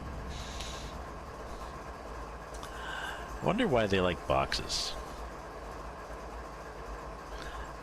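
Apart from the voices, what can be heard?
train running, from video game Train Simulator 2019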